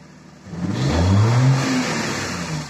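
A car engine revs hard and rises in pitch under rough, heavy acceleration in first gear during a driving lesson, loud and close, swelling after a quiet start and holding steady.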